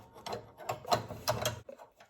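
A brake line fitting on a Classic Mini unscrewed by hand, giving short rubbing, grinding metal turns in quick bursts, close up and moderately loud.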